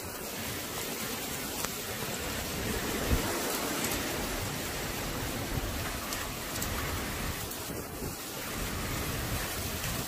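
Heavy rain and hail fall during a derecho storm with furious wind, a steady, loud hiss of pounding precipitation that continues without a break.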